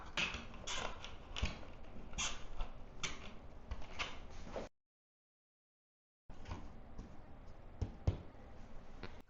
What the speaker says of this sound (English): I'm just gonna cut away just a little bit so that we can fit this box in here.